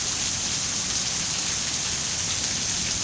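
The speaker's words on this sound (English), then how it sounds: "I can't believe it's raining this hard for this freaking long" Heavy rain pours down steadily in Phoenix, Arizona: a dense, unbroken hiss of drops hitting surfaces, close and loud for the whole stretch, with no voices.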